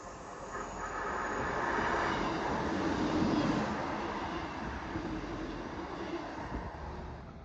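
A train on the Hope Valley line runs over the Pennines from South Yorkshire toward Manchester, giving a steady broadband rumble that swells and then eases over several seconds, heard from a moderate distance with no voices.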